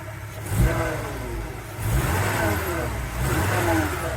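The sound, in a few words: car engine running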